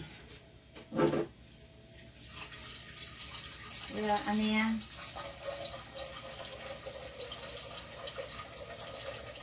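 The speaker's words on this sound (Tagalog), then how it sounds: "Naglalagay lang ako ng tubig dito sa ano, kaldero" Water runs from a kitchen tap into a cooking pot for macaroni and cheese, a steady hiss of flow with a rising fill tone, close by, while someone talks briefly over it.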